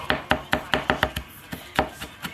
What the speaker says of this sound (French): on va couper le persil fin